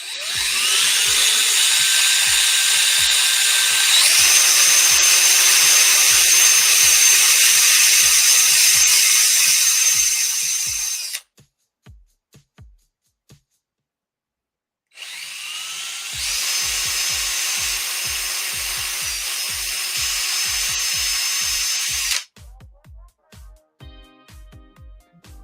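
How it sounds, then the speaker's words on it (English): A small power drill boring a hole through a bead for ornament crafting whines steadily and close up in two long bursts, about eleven and seven seconds, separated by a brief silence and light clicks. "we're still trying to get this darn bead drilled."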